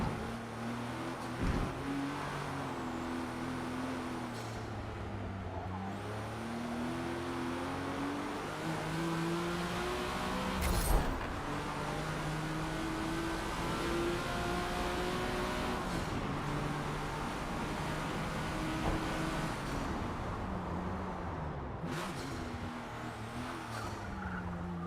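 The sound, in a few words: car engine revving in Forza Motorsport video game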